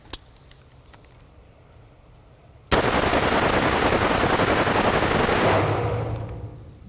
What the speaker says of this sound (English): That was 30 rounds in 3 seconds.